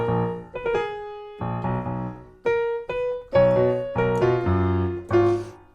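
A piano plays a chorus of a song with an octave bass line in the left hand, sustained chords struck in a steady rhythm, close and clear with no voices.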